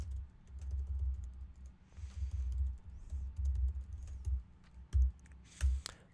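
Rapid, uneven clicking of keys being typed on a computer keyboard, close up over a low background hum.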